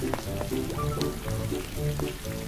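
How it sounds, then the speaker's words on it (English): Cartoon rain pattering steadily on the ground and puddles, a dense continuous patter with occasional light drips, filling the scene without any voices. "it begins to rain."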